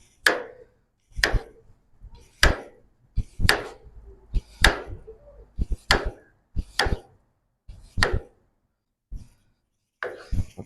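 A knife slices young potatoes on a cutting board in about ten crisp, evenly spaced chops, each a sharp close knock with a short decay, with no talking.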